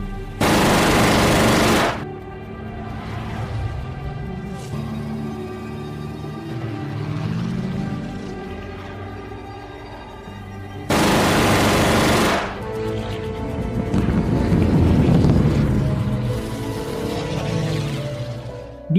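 Machine gun fire from a German fighter plane in the Dunkirk film, two loud sustained bursts of rapid shots separated by a tense swelling orchestral score and engine drone.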